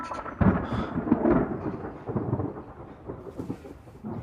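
A rumble of thunder rolls in before rain begins, heavy low-end booms and crackling swelling and fading over several seconds, fairly close and loud with no voices over it.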